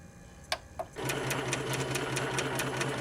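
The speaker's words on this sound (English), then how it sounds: "The great thing about this Spiegel sewing machine is you can easily control the speed" A Spiegel 60609 sewing machine stitching a hem whirs steadily at close range after a couple of sharp clicks, its needle tapping in a quick, even rhythm.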